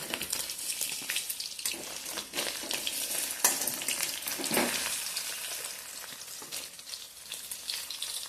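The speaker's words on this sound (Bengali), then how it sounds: "মিডিয়াম আঁচে ভাজতে হবে এবং হালকাভাবে ভাজতে হবে" Paneer pieces fry in oil over medium heat, giving a steady dense sizzle throughout with occasional stirring scrapes and brief louder bursts, close and fairly quiet, with no talking.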